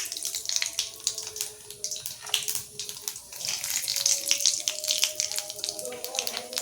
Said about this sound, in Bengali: এবার আমি এই শুকনো লঙ্কা আর কালো জিরেটা ফোড়ন দিয়ে দিলাম।